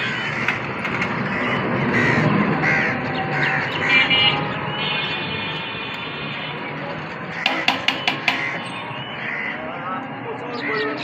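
Crows caw in scattered calls over a busy outdoor background, with people talking throughout and a quick run of sharp knocks near the end.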